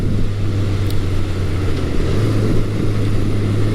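A 1980 Honda CB900 Custom motorcycle cruising along Pennsylvania back roads, its steady low engine drone and wind rush continuous and loud throughout.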